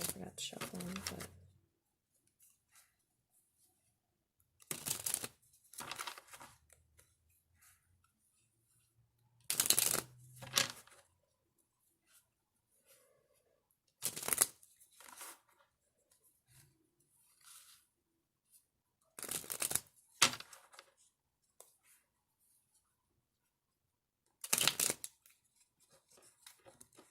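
Tarot cards being shuffled in short riffling bursts, about six separate spells spaced several seconds apart across a quiet background, close to the listener and fairly soft.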